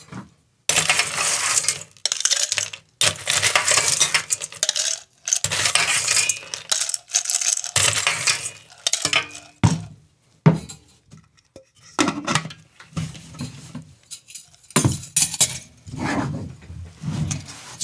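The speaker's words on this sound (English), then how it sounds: "More ice." Ice is dropped into a metal cocktail shaker in a run of loud, close clinks and clattering rattles that come in quick bursts with brief gaps, alone without talk.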